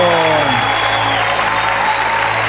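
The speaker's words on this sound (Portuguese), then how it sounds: "Vamos aplaudir o nome do Senhor." A church congregation claps together during a worship service, dense sustained applause with a held musical tone beneath it.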